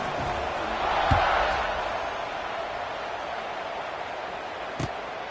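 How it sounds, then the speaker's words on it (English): Football stadium crowd before a kickoff, a steady broad roar that swells briefly early on and then holds at an even level, with a couple of sharp thuds cutting through. "this crowd now ready to get behind them"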